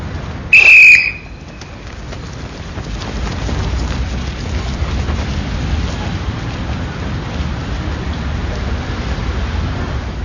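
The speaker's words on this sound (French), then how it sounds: "12e coup de sifflet" A single sharp whistle blast signals a lap in a French Foreign Legion running test, loud and brief near the start, followed by steady rain-like outdoor noise with no talk.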